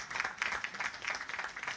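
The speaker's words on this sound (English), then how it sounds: "You know, we clap for that guy." Audience applause at a Naval Academy graduation ceremony, a quiet, steady patter of clapping across the whole stretch.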